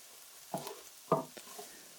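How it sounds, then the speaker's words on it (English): Faint, quiet frying hiss with two or three distinct scrapes of a wooden spoon stirring in a pan, close and sparse, no talking. "I just love the white noise that frying of any kind gives you"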